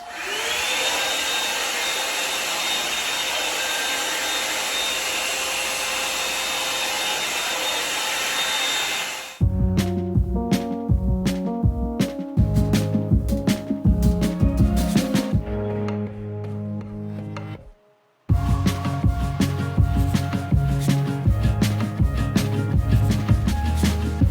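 A Revlon One Step hair dryer runs on long hair with a steady, loud, close whir. It then shifts to a rougher, bumping hum as it is worked through the hair, cuts out briefly and starts again.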